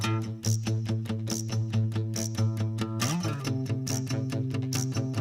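A short excerpt of a song plays as a quiz track, with a steady repeating beat and sustained tones that shift pattern about midway, at moderate level with no talk.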